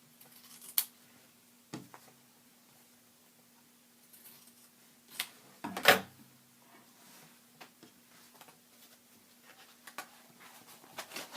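Scissors snip away excess fabric at the stitched corners of a fabric collage pencil bag, a handful of short, crisp cuts spaced apart against a quiet room with a faint steady hum.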